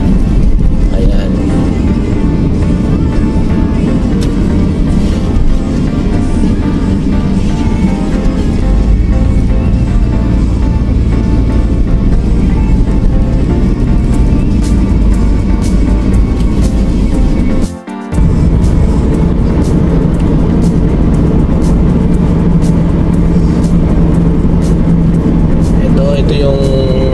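A car travels at around 110 km/h toward a highway, giving a steady, loud rumble of road and engine noise throughout with one brief dropout, while a person talks over it.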